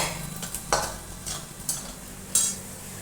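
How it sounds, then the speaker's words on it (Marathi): Fresh green peas stirred in hot oil tempering with asafoetida in a pan for a rustic jackfruit curry: a few scraping spoon strokes and light sizzle, with brief bright clinks near the end, no talk. "आपले ओले वाटाणे त्याच्यामुळे आपल्याला थोडंसं फोडणीत भाजून घ्यावे लागतील"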